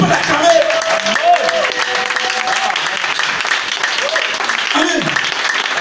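A church congregation applauds to acclaim Jesus, with steady crowd clapping throughout and a voice and tonal sounds carrying over it.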